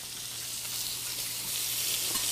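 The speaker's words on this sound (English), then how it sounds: "like now it's sizzling really fast, that means it's really hot" Onion rings fry in butter in a hot skillet, giving a fast, continuous sizzle that holds steady and grows slightly louder toward the end, with no talking over it.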